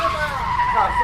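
Motorbike skidding in a road accident, a short tonal screech with a wavering pitch over a low rumble, heard close and loud.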